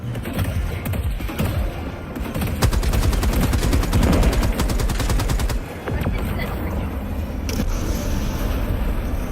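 A Gatling gun in Helldivers 2 fires a long, steady, fast burst amid loud combat noise and rumble, then stops, leaving the battle din going on.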